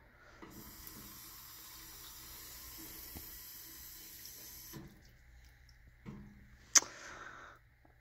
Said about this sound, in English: So I just wanted a drink of water at the water fountain